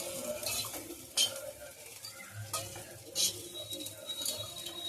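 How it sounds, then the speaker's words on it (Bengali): Spice powder stirred into hot water in a bowl for a village-style chicken curry: a spoon scrapes and taps against the bowl in a soft, steady rhythm with a few louder clinks. "গরম জলের মধ্যে গুলে নেওয়া হচ্ছে"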